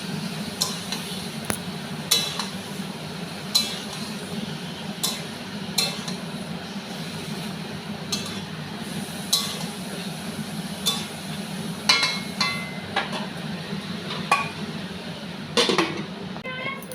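Meat fries with onions in a pan in a home kitchen, heard as a low steady sizzle under repeated sharp metallic clinks and scrapes of a utensil stirring against the pan.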